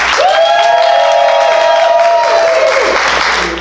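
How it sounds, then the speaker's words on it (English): Theater audience at a Villagers Theater performance of The Mystery of Edwin Drood, loudly applauding: thick, close clapping mixed with cheers and a long, piercing whistle, tapering off near the end. "Are we ready to applaud for our favorite once again?"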